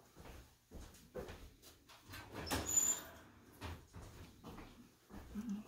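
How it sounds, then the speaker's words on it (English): An oven door is opened in a home kitchen partway through baking foil-covered baby back ribs: a faint clunk and a brief high squeak near the middle, amid quiet handling noises. "Let me open up my oven door."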